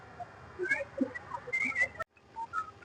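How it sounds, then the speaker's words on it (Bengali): Birds call in a park with faint, scattered whistling chirps that come in short bursts against quiet background hum. "আর চারদিকে যে পাখির আওয়াজ আপনারা শুনতে পারছেন কিনা"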